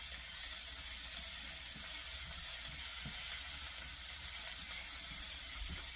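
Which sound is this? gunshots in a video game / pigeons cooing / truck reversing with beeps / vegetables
vegetables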